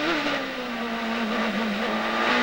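A 1999 Indy race car engine screams at high revs on the Gold Coast street circuit, a sustained loud whine with a slowly wavering pitch, heard alone.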